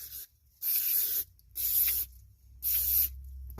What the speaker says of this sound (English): Go ahead and spray it off.